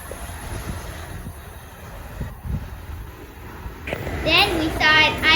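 A train runs express through Harrison station, a steady rumbling rush of rail cars with wind buffeting the microphone, and voices, including a child's, join in near the end.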